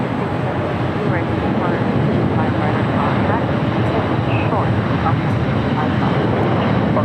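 Air Canada Dreamliner jet taxiing at LAX toward runway 25 right, a broad continuous engine roar close and steady throughout, with voices talking over it.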